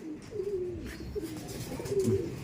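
Pigeons coo in low, soft rolling calls, several overlapping phrases close by over a faint background murmur.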